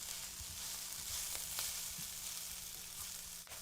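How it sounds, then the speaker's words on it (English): Freshly chopped onion and garlic cook down in a pan for shepherd's pie, a soft, even frying hiss that stays faint, with a few light clicks from the pan. "you want to cook down the onion, cook down the garlic"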